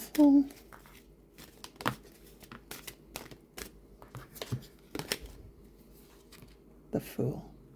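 Tarot cards are overhead shuffled in a string of short, crisp slaps and rustles at an uneven pace, close by and quiet, with a brief voice near the start and again at the end.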